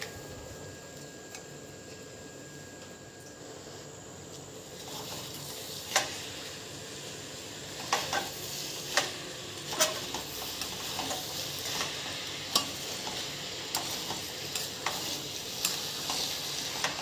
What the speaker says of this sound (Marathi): तर आपण आता या ठिकाणी गूळ घालून घेऊ।